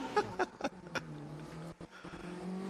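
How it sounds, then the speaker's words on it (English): A quite rapid Suzuki Swift GTI race car at a historic grassroots sprint meeting in Leyburn, Australia, roars past at close range, its engine note swelling and fading with brief gear-change dips and no talk over it. "Jordan Spateri just passes our position in that very nicely presented and quite rapid Suzuki Swift GTI"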